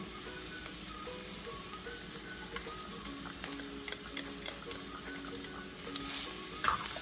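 Garlic sautés in a pan for bitter gourd with shrimp and egg, a quiet, continuous sizzle with scattered light clicks and faint utensil taps building slightly toward the end.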